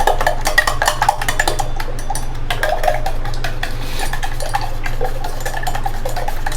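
Eggs with salt are beaten in a bowl for a chicken roll omelette, a rapid, close clicking and tapping of utensil against the bowl, irregular but continuous over a low background hum.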